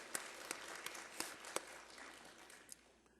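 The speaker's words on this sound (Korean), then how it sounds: "박수합니다." Faint applause from a church congregation during a Sunday service: a soft, steady wash of clapping with a few sharper individual claps, fading toward the end.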